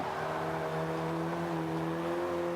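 A Vauxhall C-class car in Forza 5 accelerates with a steady, droning engine note that holds loud and constant throughout, with no voices.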